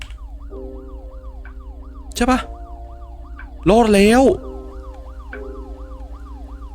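A police car siren in a night-shift video game wails in a steady repeating up-and-down pattern throughout, with two short bursts of voices breaking in over it.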